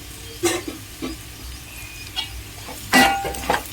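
Chili powder fries with ivy gourd in a pan, heard as a soft sizzle broken by a few sharp scraping stirs and light clinks of a spatula against the metal, close and intermittent, without speech.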